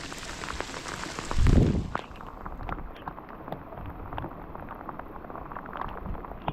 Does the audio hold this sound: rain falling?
yes